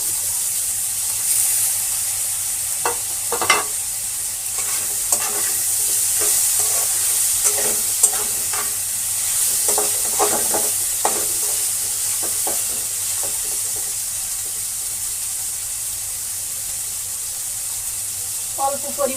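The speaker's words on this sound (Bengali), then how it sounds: "এখন কিছু কেটে রাখা কাঁঠালের বীজ দিয়ে দেব।" Dried fish frying in a pan with chopped jackfruit seeds added, stirred with steady scraping and clinks over a constant background sizzle, close and moderately loud, with no talking.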